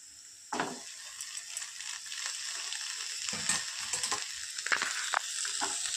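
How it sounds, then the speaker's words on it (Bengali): Boiled Maggi noodles and peas drop into a hot kadai and fry with a soft sizzle, broken by clinking, scraping stirs of a spatula against the metal pan, fairly close. "এবার আমি সিদ্ধ করে রাখা ম্যাগি আর কড়াইশুঁটিটা দিয়ে দেব।"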